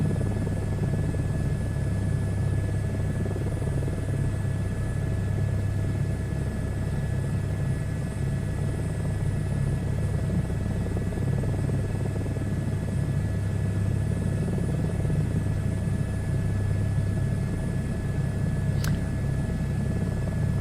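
An A-10 jet engine drones in a flight simulator video game, a steady, unchanging hum with a faint whine over low rumble, continuous and moderately loud, with one brief click near the end.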